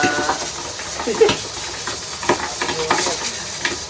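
Broad, steady sizzling of chicharon frying in hot oil, with occasional clinks of utensils and a few brief faint voices in the background.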